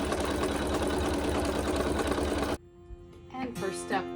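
An embroidery machine runs a quilting pass in a steady, loud mechanical whir for over two seconds, then stops abruptly, leaving a quiet room with faint tones.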